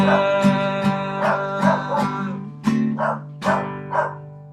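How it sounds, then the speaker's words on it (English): A dog howls and yips in the background, joining in with a guitar-and-voice performance of a song. Several short vocal bursts rise over the steady sustained music. "Is that your dog in the background singing along?"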